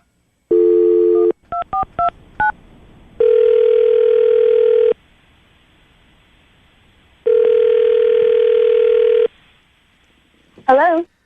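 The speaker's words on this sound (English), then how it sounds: "we're about to call Leslie" Touch-tone dialing beeps of a telephone call followed by two long ringback tones separated by a pause, ending with a brief warbling sound as the line connects.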